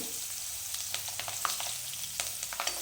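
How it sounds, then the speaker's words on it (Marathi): Green chillies frying in hot oil in a pan while cooking a Maharashtrian dry surmai fish curry: a steady, soft, close sizzle with faint crackles and pops, no voices. "या तेलामध्ये मिरच्या घालून घेऊ."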